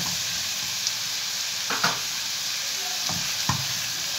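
Peppers stirred into frying chicken livers with garlic in a pan: a steady broadband sizzle throughout, with a few soft scraping stirs of a spoon at intervals, close and moderately loud, no talking.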